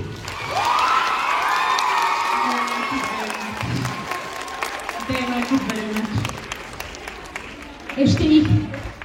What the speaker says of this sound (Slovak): Tak ešte jeden potlesk pre nich.